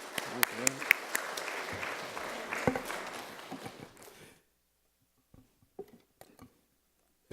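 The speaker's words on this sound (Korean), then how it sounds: "나오실 때 박수 좀 쳐주세요" A church congregation claps for about four seconds, then the applause stops abruptly, leaving near-silence broken by a few faint shuffles.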